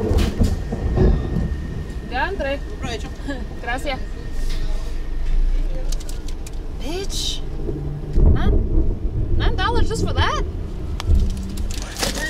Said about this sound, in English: Closest lightning I've ever seen in my life.